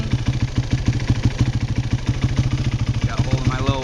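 A Yamaha YFZ450 four-wheeler idles close by with a rapid, even chugging pulse from its single-cylinder engine, and a voice comes in briefly near the end.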